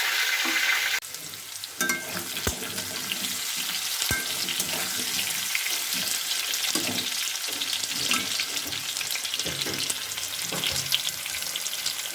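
Potato pieces coated in salt and turmeric sizzle loudly in hot oil in a kadai, a steady dense frying hiss with occasional stirring scrapes and no voices.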